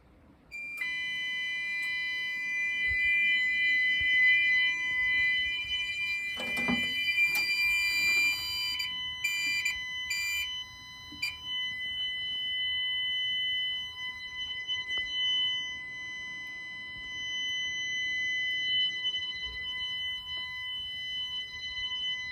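A Potter PFC-6075 fire alarm panel goes into alarm, and a Banshee sounder gives off a loud, sustained electronic tone with steady high whines. A brief rustle and clunk come partway through, and the alarm carries on to the end.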